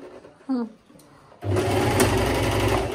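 An electric sewing machine zigzag stitching a pillow cover starts up after a brief voice, then runs as a steady, loud, close mechanical whir with a rapid needle rhythm.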